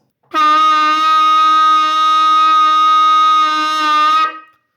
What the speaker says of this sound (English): That's the long straight blast